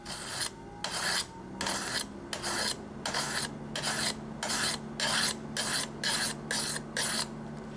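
A kitchen knife drawn across the stone of a guided sharpening system at roughly a 15-degree angle, heel to tip, giving steady rhythmic raspy strokes, about a dozen close passes alternating in even succession with brief gaps between.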